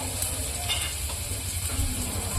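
Turmeric, coriander-cumin powder and garam masala being stirred in hot oil in a pan, a continuous close sizzle with soft scraping of the spoon, no voices.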